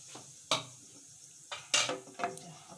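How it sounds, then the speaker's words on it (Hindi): Asafoetida dropped into hot oil with already crackled cumin, giving a few sharp sizzling bursts and clinks of a utensil against the pan, close and fairly quiet with gaps of near silence between them. "तेल हमारा गरम हो चुका है, अब डाल देंगे इसमें ज़ीरा। अब ज़ीरा तड़क चुका है, अब डाल देंगे इसमें हींग।"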